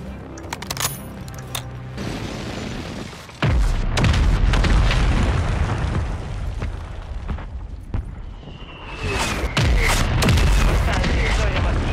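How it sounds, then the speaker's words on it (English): Precision airstrike explosions in Call of Duty, with sharp booms landing close and loud, one heavy impact followed by sustained rumbling blasts and debris, under game radio chatter and voices. "Friendly precision airstrike inbound."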